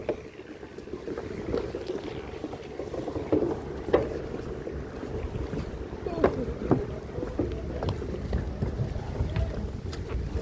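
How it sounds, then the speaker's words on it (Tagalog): Small outrigger boat (bangka) moving across open water near Kalibo, Aklan, with a steady wash of water and wind noise broken by sharp splashes and knocks against the hull; a few voices are faintly heard. "sakay na kami ng bangka"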